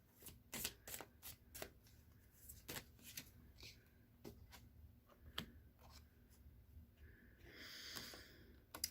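Tarot cards being shuffled and handled at close range: a run of sharp riffles and flicks with short pauses, a longer sliding shuffle near the end, and faint murmuring in the background.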